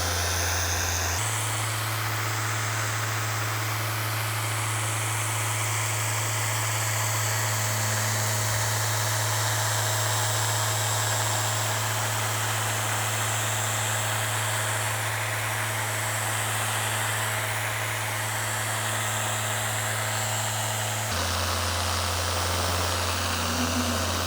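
A free-spinning orbital polisher runs on car paint with compound during a one-step paint correction, a steady, loud mechanical whir that holds level for about twenty seconds, then shifts pitch slightly as the speed changes.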